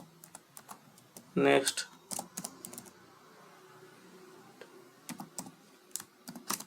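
Computer keyboard keys clatter in short irregular bursts of typing, close and fairly quiet, with one spoken word cutting in early on.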